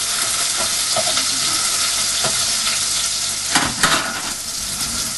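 Onions fry and sizzle in a pan for a beef burger curry, with a steady hiss throughout and a few scraping stirs near the end; close and continuous, no talking.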